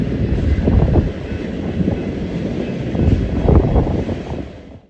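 A train passing near Tehachapi rolls by close and loud, a dense, steady rumble and rattle of rail cars with surges in intensity as the wagons clatter past, no voices over it.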